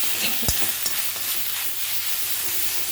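Steady sizzling of hot ghee tempering spices in a pan, with a few sharp crackles and pops near the start, close and continuous.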